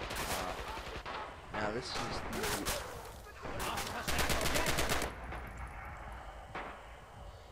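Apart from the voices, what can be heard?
German MP40 submachine gun firing in video game Red Orchestra 2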